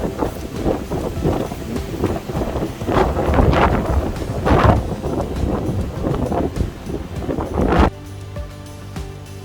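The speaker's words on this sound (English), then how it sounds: "it's really, really windy" Strong, gusty wind on top of Kinder Scout in the Peak District buffets the microphone in loud roaring bursts, easing off slightly near the end.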